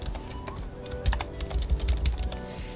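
Someone types quickly on a computer keyboard, entering a username, email address and password into a network controller setup, with close, steady key clicks that keep going throughout.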